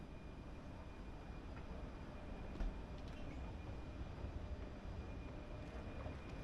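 Low, steady rumble of a train at a platform in Prague, a continuous idling drone with faint metallic clanks, heard at a moderate distance and fairly quiet throughout.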